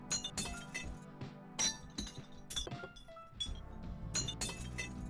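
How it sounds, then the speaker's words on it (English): Glass Tony in Nubby's Number Factory gives off bright, rapid glass clinks and repeated shattering bursts, crisp and close, with no talking. "he makes sounds of glass"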